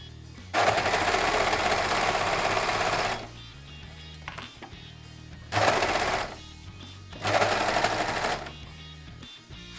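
A sewing machine stitches sweatshirt sleeves and side seams in three bursts, one long run of about three seconds followed by two shorter runs, with a quiet rattle in between, close and clear with no voices.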